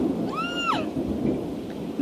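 Steady rain falls outside with thunder, a continuous fairly loud wash of noise throughout, and a brief rising, whistle-like tone early on.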